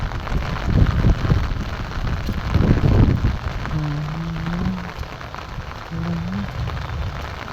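Heavy monsoon rain pours steadily in Hyderabad, a dense close hiss with two louder surges early on, while a few brief low tonal hums sound faintly underneath near the end.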